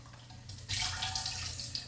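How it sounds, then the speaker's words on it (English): Canned black beans rinsed under a running kitchen tap: a quiet lead-in, then a steady, close splash and hiss of flowing water starts suddenly and continues. "Now, I always rinse my beans."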